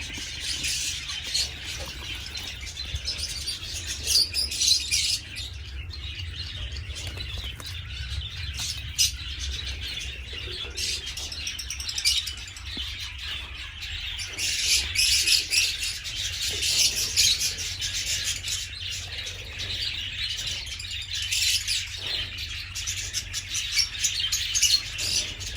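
Small caged birds that escaped through an open cage door chirp and tweet in scattered bursts, with occasional fluttering wingbeats and squawks over a low background hum.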